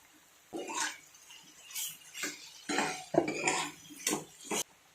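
Spoon scraping and clinking against a pan as ginger-garlic paste is added to a vegetable dish, several short bursts of metallic scrapes and taps separated by brief pauses, close and fairly quiet.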